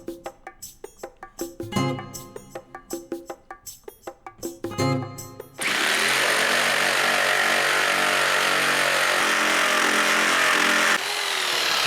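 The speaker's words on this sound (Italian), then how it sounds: "Poiché il seghetto non è adatto per questo scopo, noterete che il taglio non è perfetto." Jigsaw cutting wood for a small DIY canopy, first in short stop-start bursts of buzzing reciprocating saw, then a loud continuous run of the motor and blade, close and with no talk.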